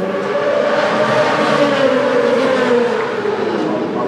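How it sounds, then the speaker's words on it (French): Supersport racing motorcycles on a dry track during warm-up at the Assen circuit, engines droning steadily and fairly loud throughout with a slowly shifting pitch, as from bikes passing at a distance. "C'est parti pour le warm-up Super Sport sur une piste sèche."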